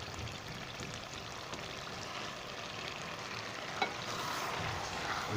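Boiled chana dal being stirred into roasted pumpkin curry in a pan, a steady close sizzle and frying hiss with soft wet stirring throughout, with no voices.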